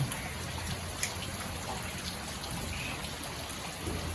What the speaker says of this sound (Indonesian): Kondisi cuaca terkini Sri Pendowo hujan.